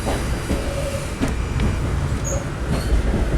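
An Amtrak train runs on the New York–Philadelphia main line, a loud, close, continuous rumble and roar of wheels on rails with faint squeals and occasional clicks, and no talking.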